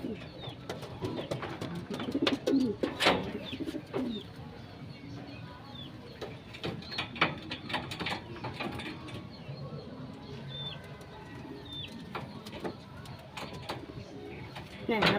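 Derby racing pigeons cooing in a loft, soft repeated coos and rustling with occasional clanks, fairly quiet, with someone speaking at times.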